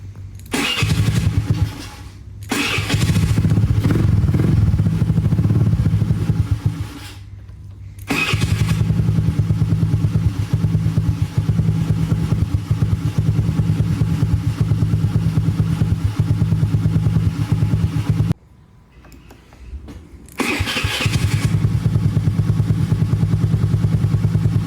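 A Honda Navi engine idles on a rejetted idle jet with a close, steady putter, cut by a few brief drops in sound.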